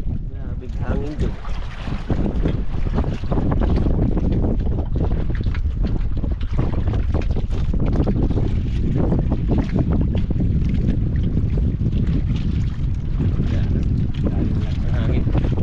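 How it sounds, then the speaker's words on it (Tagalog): Strong wind roars and buffets the microphone continuously aboard a small fishing boat at sea, loud and unbroken throughout, with voices faintly under it. "Grabe hangin dyan."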